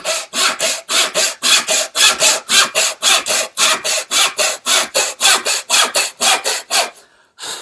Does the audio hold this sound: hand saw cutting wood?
yes